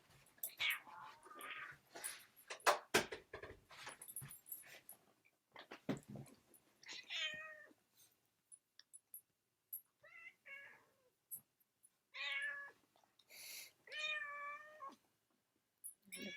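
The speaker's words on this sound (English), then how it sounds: "The cat is irritated that the dog is back" A house cat lets out several short, irritated meows and yowls near a dog. The cries come in scattered bursts between rustling and clicks, with soft whispered voices in between.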